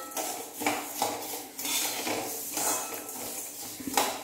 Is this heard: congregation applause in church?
no